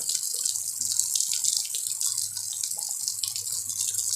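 Waterfall water pouring steadily over slippery rock at a Thai waterfall, a constant broadband rush with no voices, loud and close throughout.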